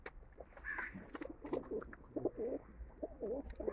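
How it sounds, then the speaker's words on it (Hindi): Soft, low pigeon coos repeat in short warbling phrases, fairly close, at a farmhouse, over a faint background hum with a few brief higher bird calls. "जो बहुत अच्छे कबूतर हैं, कबूतरें दिखाई हैं उन्होंने"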